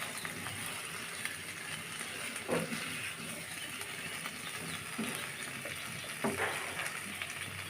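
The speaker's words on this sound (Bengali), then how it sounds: "টমেটোগুলো ভাজা হয়ে গেছে" Tomatoes frying in a pan for a thin fish curry give a faint, steady sizzle with a few soft stirring taps, quiet and fairly distant, with no talk.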